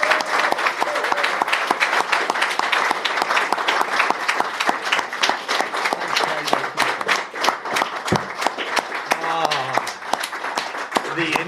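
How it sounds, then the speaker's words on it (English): A live audience at a British Interplanetary Society event gives a sustained round of applause, dense, even clapping close by throughout, with brief voices and cheers surfacing near the end. "Please, big round of applause for Kate."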